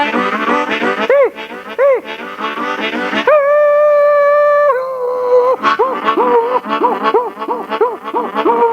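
A live country music performance with a voice or instrument imitating a dog howl: rising, sliding wails, then a long sustained vibrato note, all woven into the busy, rhythmic band playing.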